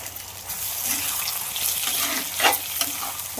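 Onions fry in a pan for a fish curry, with tomatoes to be added, giving a steady, close sizzle broken by occasional stirring scrapes.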